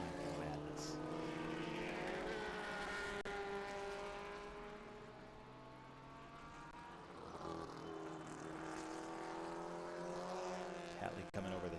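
Race cars, among them a Datsun, roar past at a Mid-Ohio road-course race. Engine notes rise and fall through shifting gears, with a commentator talking over the steady track noise.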